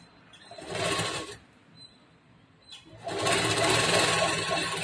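A sewing machine stitches blouse fabric for a boat-neck back design in two close, loud bursts of rapid whirring, separated by a quiet pause of about two seconds.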